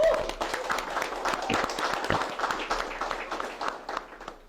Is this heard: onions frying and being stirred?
no